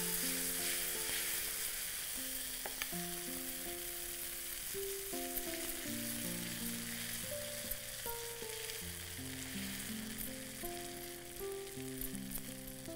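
An oats pancake cooking on a hot stone griddle over a slow flame, giving a soft continuous sizzle at low level while faint background music plays, no talking.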